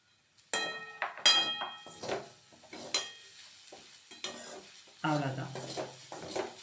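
A spatula stirs cluster bean paruppu usili with curry leaves in a pan, giving intermittent scrapes and metallic clinks over a light sizzle that swells near the end.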